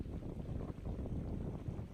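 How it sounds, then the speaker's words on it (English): Wind rushing past a boat on a cloudy trip through mountainous terrain near Bergen, Norway, a steady low buffeting roar that holds at an even level without a break for the whole stretch. "There you can hear a little bit of wind."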